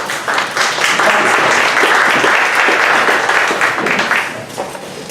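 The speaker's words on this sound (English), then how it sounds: "we give a round of applause as we welcome him to the stage" Audience at a Dallas startup pitch event applauding a presenter onto the stage, sustained dense clapping filling the room for about five seconds at steady loudness.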